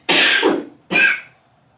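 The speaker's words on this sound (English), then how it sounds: "Sorry, I need to cough." Two close, forceful coughs in quick succession, the first harsher and longer, the second shorter with a throaty clearing quality.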